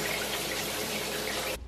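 Shower water runs steadily in a hotel bathroom of an economy suite in Orlando, a loud, even hiss of spray that cuts off abruptly near the end, with no voices.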